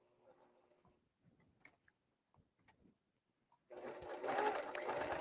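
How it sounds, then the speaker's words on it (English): A sewing machine stitching two fabric pieces together starts up after a few quiet seconds of small handling clicks, then runs as a fast, steady mechanical whir close by until the end. "I'm sewing just outside of that 1/2 inch seam allowance."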